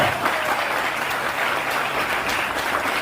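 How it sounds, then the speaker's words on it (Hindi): An audience claps in steady, dense applause, loud and close, with no talk over it, at a talk about a flax supplement. "दोस्तों ताली बजाओ अपने फ्लैक्स के लिए"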